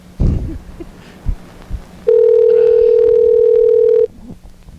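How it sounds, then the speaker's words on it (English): A telephone line on a call to a McDonald's in Salem, Oregon gives a few soft clicks and knocks, then one loud, steady dial tone that holds for about two seconds before cutting off. "so now we're calling Mr. Ginsu"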